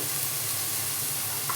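Onions sautéing in a pan for a banana-flower coconut-milk vada curry give a steady, close, even sizzle with faint hiss, continuous and unbroken, with no talking.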